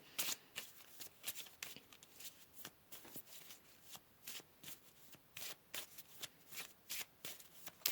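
Oracle cards are shuffled close up in a quiet room, with a steady run of quick riffling bursts and soft slaps repeating rhythmically for several seconds.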